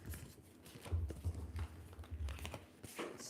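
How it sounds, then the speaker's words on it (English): Tarot cards shuffled by hand, giving soft riffling and papery crinkling in a few quick bursts, quiet and close, with no talk. "I'm gonna shuffle that again"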